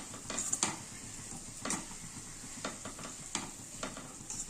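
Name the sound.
stirring beetroot fry with flaxseed powder in pan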